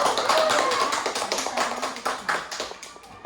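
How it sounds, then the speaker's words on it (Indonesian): An audience of women claps together at a school guidance-counselling training session, a dense, fairly close patter of hands fading out over a few seconds with no talking. "tepuk tangan dulu untuk kita semua"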